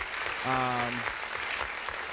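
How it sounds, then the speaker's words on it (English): Broadband crowd applause from a sports talk show's audience, a steady wash of clapping that holds throughout, with a brief tonal voice or whistle rising over it near the start. "Let me wait for the applause to calm down."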